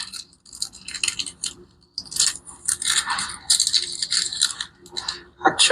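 Paper lining of processed food packaging crinkling and rustling in close, sharp bursts of crackle with brief pauses between handlings, loud and near, no voices.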